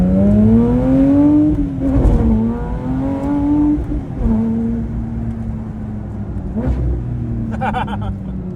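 A Porsche GT3 engine while driving, a rebuilt car once wrecked, heard from inside the cabin as a steady loud drone that rises and falls in pitch through several rev changes, with brief clicks and a short rattle near the end.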